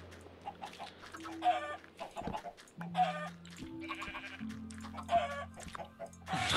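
Minecraft chickens cluck repeatedly, with short tonal squawks and background game music tones, no talking.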